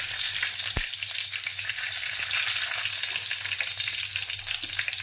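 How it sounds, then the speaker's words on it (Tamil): Fennel and fenugreek seeds fry in hot oil as a tempering for an egg adai curry, giving a continuous close sizzle and crackle with a single sharp tap near the start. "இதுக்கு சோம்பு தாளிச்சுக்குவோம். இதோடு வாசனைக்காக 2 வெந்தயம்"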